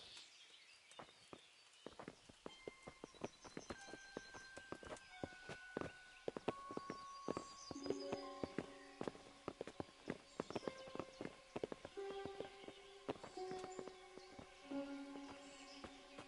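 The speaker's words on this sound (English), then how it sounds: "Bring the horses." Horse hooves in Kingdom Come: Deliverance clip-clop in a steady walking rhythm, moderately close, with tonal music playing underneath and no speech.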